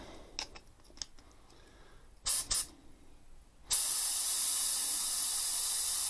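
Iwata Kiwami1 W101 airbrush at 2 bar bursting into a loud, steady spray hiss that runs unbroken to the end, after a few short airy puffs.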